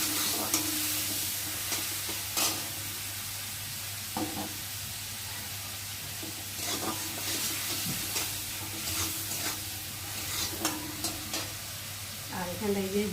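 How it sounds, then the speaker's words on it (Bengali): Cut prawns seasoned with turmeric and salt fry in hot oil, giving a continuous close sizzle broken by scattered clinks and scrapes of a spatula, with a low hum underneath and no talking. "এবার কেটে রাখা চিংড়ি মাছগুলোকে ফার্স্টে ভেজে নেব"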